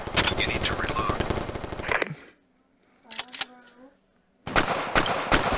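Rapid automatic gunfire in the VR shooter Crisis VRigade, dense bursts of sharp shots at the start and end with a short near-silent gap and a few isolated shots in between; a voice is heard faintly.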